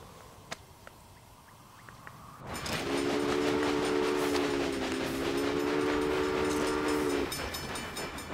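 A train in the game Railway Empire rumbles in with rhythmic clacking, then a long steady horn sounds over the rolling noise, loud and close, with no voices.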